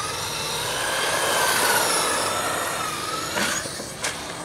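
The electric motor of a Traxxas Slash 2WD RC car whines while the car drifts at constant throttle outdoors, giving a continuous high-pitched drone with a couple of brief sharp scuffs near the end.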